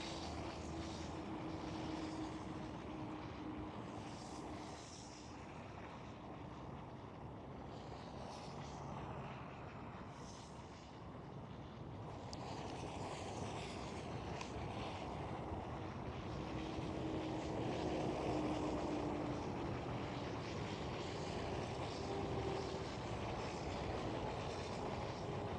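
An airliner landing at Schiphol Amsterdam airport, heard from a distance over farmland as a steady, low jet roar that holds for the whole stretch and swells slightly toward the end, with no talking.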